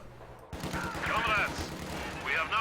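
Machine gun fire in the Company of Heroes 2 strategy game comes as a rapid, even rattle of bursts, moderately loud, with a voice talking over it.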